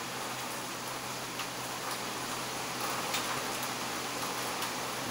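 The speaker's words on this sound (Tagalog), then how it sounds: "biglang umulan" Steady rain falls outdoors in a continuous, even hiss with scattered faint drop ticks, moderately quiet and with no voices.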